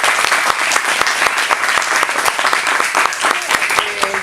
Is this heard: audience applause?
yes